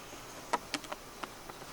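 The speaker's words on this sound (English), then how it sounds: "Well, there's a few bees in there." Bees inside a robbed-out beehive give off a few faint, short buzzes and flickers of wing noise, scattered and intermittent against a quiet background.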